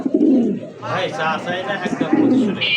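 Pigeons for sale at a wholesale pigeon market, including a Blue Bar German Beauty Homer pair, give two deep, rolling coos at the start and end, with someone talking briefly between them.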